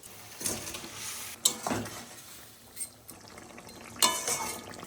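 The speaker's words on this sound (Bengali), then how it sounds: "ঝোল ফুটে গেছে, এবার ভেজে রাখা যে মাছগুলো দিয়ে দেবো।" Fried fish slid into a pot of boiling curry gravy, giving splashes and sizzling bursts with metal spoon-and-pot clinks and stirring scrapes, loud at moments and then settling into a low simmer.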